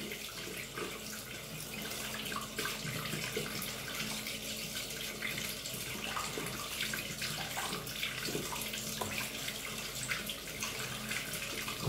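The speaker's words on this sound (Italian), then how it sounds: "Facciamo arrivare l'acqua calda" Hot water runs from a tap into a sink in a steady, continuous rushing stream, loud and unbroken throughout.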